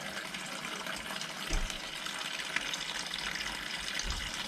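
Green coolant draining from the radiator of a Honda XL650V Transalp motorcycle during a service, a steady close hissing gush of liquid pouring out without pause.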